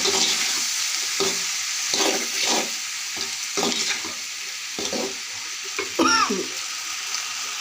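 Salted sliced onions for bhaji being stirred in a pan, repeated rhythmic scraping strokes of a spatula over a steady frying sizzle, close and moderately loud, with a brief voice in the background.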